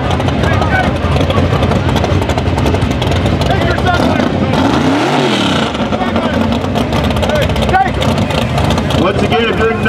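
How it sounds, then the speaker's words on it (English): A Mustang and a Malibu drag race off the line at a small-town airport strip, their engines roaring loud and continuous, with a rising Doppler sweep as one passes close by and crowd chatter underneath. "Kevin in a Mustang, Dean in a Malibu"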